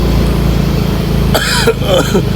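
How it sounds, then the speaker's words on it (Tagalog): A short burst of coughing rings out partway through, close to the mic, after a steady low rumble of background noise. "Ako po inuubo."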